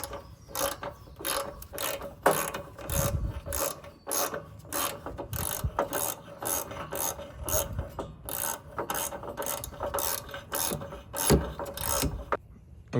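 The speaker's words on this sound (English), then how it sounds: "Okay, I removed the back bolt there." A ratchet wrench with extensions loosens a starter mounting bolt on a BADBOY Revolt mower with a Kawasaki FX730V engine, giving close, steady rhythmic clicking strokes throughout, with faint metallic rubbing between.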